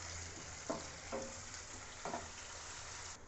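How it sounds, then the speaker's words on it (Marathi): Tomato and onion frying in oil for pav bhaji give a steady, close sizzle, with a few brief scraping stirs of a spoon in the pan breaking through the constant hiss. "हा टॅमॅटो आपल्याला तेलामध्ये पूर्णपणे शिजवून घ्यायचा आहे"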